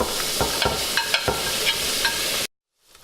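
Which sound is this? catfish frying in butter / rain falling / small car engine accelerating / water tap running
catfish frying in butter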